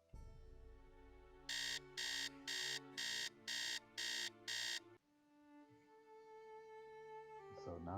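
A loud alarm clock in the Nancy Drew video game, beeping in seven even, rapid pulses over a steady background tone, then stopping, with the music carrying on afterward.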